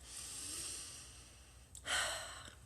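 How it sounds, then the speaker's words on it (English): A soft, close inhale followed by a louder, breathy exhale, a slow deep breath taken alone in a quiet room. "So let's take a deep breath"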